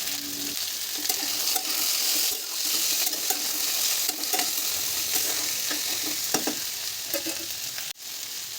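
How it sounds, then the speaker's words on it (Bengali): Mixed vegetables with green chilies and jackfruit seeds frying in a pan, continuous sizzle broken by repeated spatula stirs and scrapes, close by with no speech. "সবজিগুলো ভাজতে ভাজতে কাঁঠালের বীজগুলোও দিয়ে দেবো।"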